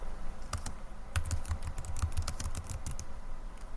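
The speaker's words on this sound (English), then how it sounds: "So let me just type that up" Rapid keys clatter on a computer keyboard in steady bursts of clicks, close and fairly quiet, with no voices.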